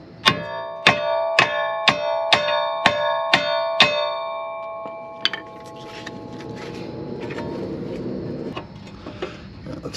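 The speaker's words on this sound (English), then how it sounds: "We're gonna see if we can get this a couple taps with a hammer." Seven loud, evenly spaced metallic clangs from a hammer striking a car half shaft on a Chevy Traverse or GMC Acadia, followed by a single later strike and then quieter workshop clatter and shuffling.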